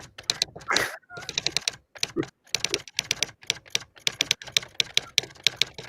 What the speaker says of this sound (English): Ending of typewriter.